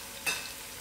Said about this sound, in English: Let it fry for a few minutes.